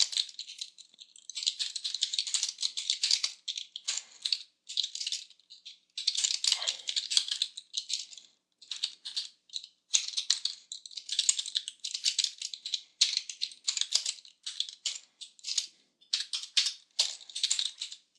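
Continuous fast typing on a computer keyboard, close and fairly loud, with bursts of rapid clicks broken by brief pauses and no voices.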